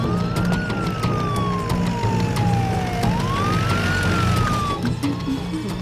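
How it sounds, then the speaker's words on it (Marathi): A police car siren wails in long rising and falling sweeps, loud and close over steady traffic rumble, with no one speaking. "पोलिसांची गाडी यायला लागली आहे."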